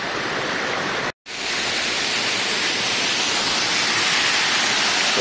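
A tall jungle waterfall pours from hundreds of meters up with a loud, steady, broadband roar that continues almost the entire time and drops out only briefly near the start.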